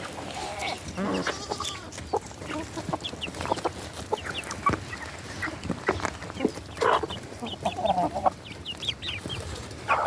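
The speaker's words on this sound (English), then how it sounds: "This one's a rooster." Young, half-grown chickens cluck steadily, with a rooster's calls mixed in among the busy flock, close by and fairly loud throughout.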